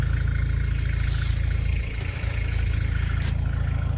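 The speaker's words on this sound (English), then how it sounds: "You can see that skid steer is still idling to keep that battery charged." A skid steer's engine idling steadily with a constant low drone, close by, with a brief dip and clatter partway through.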